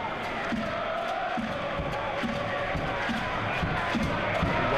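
A noisy home crowd roars in a football stadium during a Leicester City versus Watford match, a continuous dense wash of chanting and cheering with no clear break.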